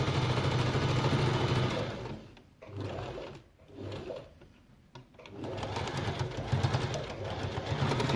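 Sewing machine stitching fabric for puffed sleeves, a steady close mechanical whir that stops briefly a few times in the middle before running again.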